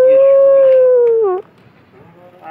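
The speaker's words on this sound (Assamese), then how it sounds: "এই কুকুৰে হোৱা দিছি মানে কি" A dog lets out one loud, close, drawn-out howl that holds steady and then drops away sharply, followed by a quieter, faint background.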